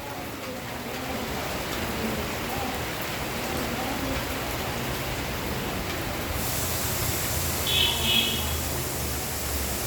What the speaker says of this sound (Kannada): ಮಳೆ ಬರ್ತಿದೆ, ಎಂಜಾಯ್ ಮಾಡಿ.